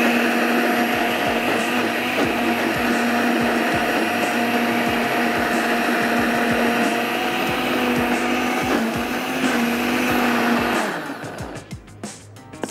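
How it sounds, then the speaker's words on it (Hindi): A kitchen blender runs steadily and loudly, grinding mung dal with a little added water into a paste. The droning whine holds for about eleven seconds, then winds down and fades near the end. "अब इसी को ही थोड़ा सा हम और ब्लेंड कर लेते हैं"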